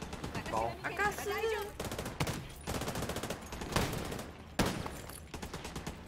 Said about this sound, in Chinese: 开枪啦